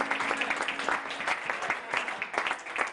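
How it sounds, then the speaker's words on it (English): A crowd at a live music event applauds steadily with overlapping hand claps, moderately distant, with a faint tone underneath at the start. "Also, put your hands together for our MC tonight, Mr. Nan Rose."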